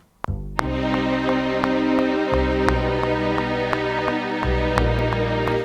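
A string ensemble plays sustained chords at full volume, thick and loud, with sharp attacks marking each chord change over several seconds.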